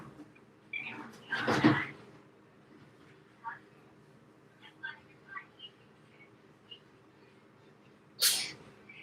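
A single sharp sneeze bursts out near the start, followed by a second short burst later, amid quiet household sounds and brief background noises.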